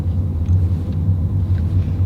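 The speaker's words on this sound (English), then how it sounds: "there's a lot of traffic" Road traffic in Germany heard from inside a moving car, a steady low rumble and engine drone with faint passing hiss, continuous and fairly loud without talk.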